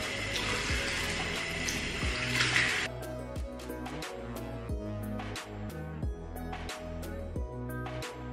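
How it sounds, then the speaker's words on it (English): Water from a tap rinsing hair, a steady splashing gush at first that gives way to broken, irregular splashes and drips, moderately close. "I'm just gonna rinse it a little."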